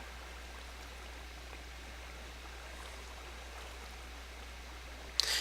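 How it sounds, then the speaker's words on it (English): Steady, even rush of falling water from a Minecraft waterfall, a constant wash with no talk, ending in a brief louder splash at the very end. "I hate swimming up waterfalls."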